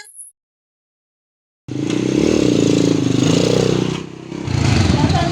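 After a brief silence, a loud modified motorcycle exhaust bursts into a raspy, crackling roar, dips briefly, then revs hard again, close by.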